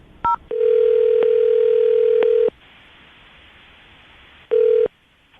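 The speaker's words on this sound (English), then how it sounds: "Let's see if we can call him back again, see if he'll answer." A telephone call placed to call someone back: a short dial tone blip, then a long steady ringback tone, a pause, and the tone starting again, clear and loud with a faint hiss in between.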